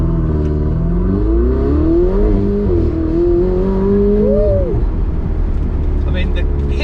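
A Ferrari 488 Spider pulls away in first gear, its engine note climbing steadily in pitch over several seconds before easing off, loud and close with a continuous roar.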